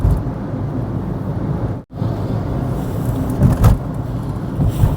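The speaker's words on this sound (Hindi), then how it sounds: "ट्रैफिक जाम लगा हुआ है आगे।" Steady road rumble of traffic on the bridge over the Yamuna river, heard from inside a vehicle, continuous and fairly loud, with a brief dip around two seconds.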